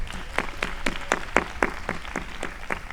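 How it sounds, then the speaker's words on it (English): Rhythmic clapping at a post-show talk for a ballet program at Jacob's Pillow Dance Festival, honouring choreographers Helen Pickett and Alessandro Ceruto; evenly spaced claps in a steady beat over a soft crowd background, moderately quiet. "let's give another round of applause for our choreographers"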